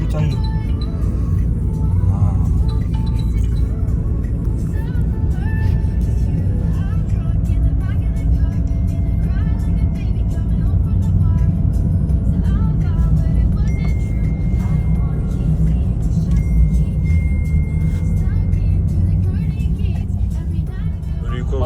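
Inside a rented Bolt ride-hailing car on a road in Phuket, Thailand, a steady low engine and road rumble runs continuously while people talk over it.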